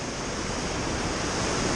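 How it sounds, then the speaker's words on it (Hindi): The fast-flowing Kali Ganga river on the Nepal–India border rushes in a dense, constant roar of turbulent water, steady and loud with no voices. "कितनी तेज काली गंगा नदी का बहाव है आप देख सकते हैं।"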